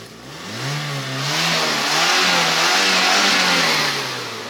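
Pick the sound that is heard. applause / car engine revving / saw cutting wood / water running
car engine revving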